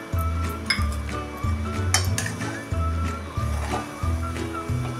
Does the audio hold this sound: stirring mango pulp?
yes